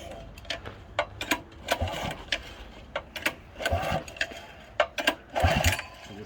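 Small mini bike engine running roughly in cold weather, an uneven rattling putter with sharp irregular pops and bursts, close and fairly loud.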